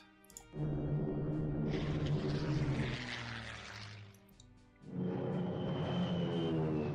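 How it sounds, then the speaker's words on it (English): A strategic bomber from the strategy game Strategic Command attacks an entrenched army: a loud, droning propeller-aircraft engine roar swells, fades, then returns strongly, steady and close with no talk. "I'm going to use this strategic bomber to work on de-entrenching it"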